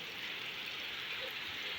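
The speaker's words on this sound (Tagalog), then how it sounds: "Ang lakas ng ulan." Heavy rain pours down in a steady, dense hiss that stays constant and close, with no voices.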